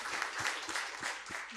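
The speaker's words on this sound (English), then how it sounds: "Please do give a round of applause for our wonderful panelists." An audience applauds panelists at the close of a sports talk panel, a dense, steady patter of many hands clapping at moderate volume from a room, lasting the short stretch without speech.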